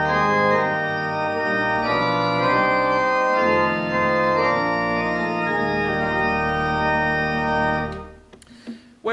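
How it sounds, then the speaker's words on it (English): A sustained theatre pipe organ on the metal-piped diapason stop plays chords with a full, steady tone for several seconds before the sound fades into a brief reverberant tail. "the main sound of the organ comes from what we call the diapason"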